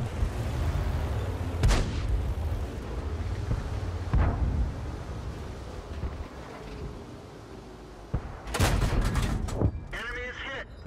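Tank cannon fire in the World of Tanks video game, with several sharp booming shots over a steady rumbling battle background and a cluster of louder blasts near the end.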